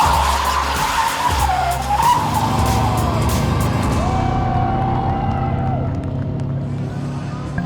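A brand new 2018 rallycross car slides with the handbrake pulled in a car park, its tires squealing in long wavering tones over a loud, steady engine drone close by.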